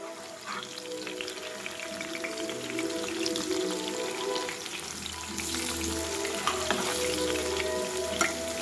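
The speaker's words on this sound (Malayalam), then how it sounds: "നന്നായിട്ട് മൊരിച്ച് എടുക്കാം." Fish bajji frying in hot oil sizzles steadily and close, with a busy crackle and spatter that grows a little louder toward the end, with no voices.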